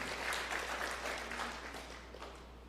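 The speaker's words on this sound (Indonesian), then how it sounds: "Berikan tepuk tangan yang meriah buat Tuhan" Applause from a church congregation during a sermon, a full wash of many hands clapping that starts strong and gradually fades, with a steady low hum beneath it.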